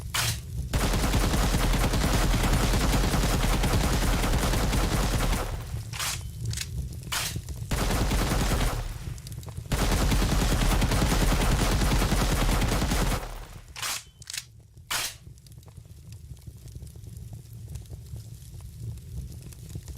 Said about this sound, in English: Look at him running backwards while shooting.